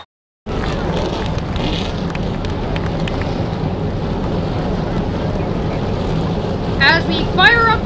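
Race car engines fire up at Martinsville and rumble together in a loud, dense roar that persists throughout, with a crowd's noise mixed in and a sharp whine near the end.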